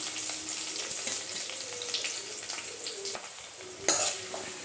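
Two large onions, cut into big pieces, sizzle and fry in hot oil while being stirred in a pan for a goat-head curry, a steady close crackle with occasional utensil scrapes and one louder clatter near the end.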